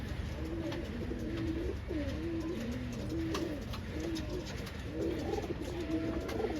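A pigeon of a jungle timing breed coos close by in repeated rolling phrases over about seven seconds, with steady outdoor background noise and no talk.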